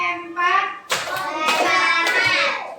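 Children clap their hands in a counting clap game during a classroom lesson on the five senses, with bursts of rhythmic clapping overlapping young voices and a teacher's chanting.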